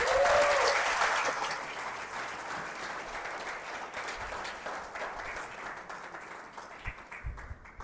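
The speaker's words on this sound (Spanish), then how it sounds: "¿por qué no le da un aplauso a Dios?" Congregation applause during a Spanish-language sermon, loud at first, then tapering and thinning into scattered claps over several seconds.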